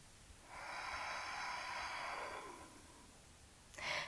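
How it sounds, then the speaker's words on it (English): A yoga student takes a long, slow breath at the end of an intermediate flow class, a steady airy exhale lasting about two seconds, close and soft, followed by a brief sniff-like inhale. "Take a couple of breaths, allowing your breath to flow in your body."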